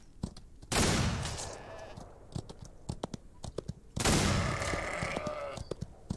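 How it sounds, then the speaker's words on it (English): Volcanic pistol gunfire in the video game Red Dead Redemption 2, with sharp shot bursts arriving in two loud volleys separated by scattered short cracks, all set against a noisy game backdrop. "Don't mind a volcanic pistol from playing Red Dead 2."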